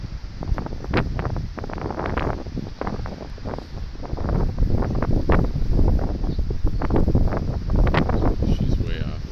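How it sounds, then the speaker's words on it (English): Strong wind buffeting a microphone outdoors, a continuous loud rumble with gusty swells throughout and no clear talk over it. "Well, that wind"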